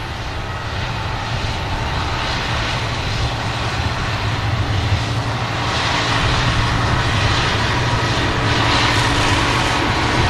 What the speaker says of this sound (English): we have a BA 319 just touching down from Heathrow.